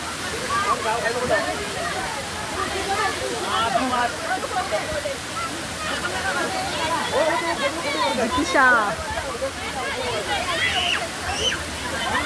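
A waterfall near Panvel, Navi Mumbai, gives off a steady rushing roar of falling water, with people talking and calling out over it the whole time.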